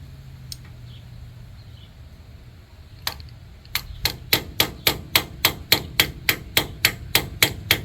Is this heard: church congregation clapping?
no